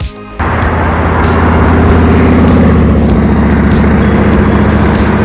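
Harley-Davidson motorcycle engine fitted with a Vance & Hines exhaust and a stacked street tuner, idling loud and steady with a deep, throaty low rumble that carries on unbroken and without talk.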